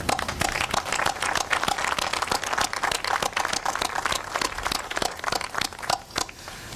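Dense audience applause in a hall at a law signing ceremony, many hands clapping steadily and loudly throughout with no pause.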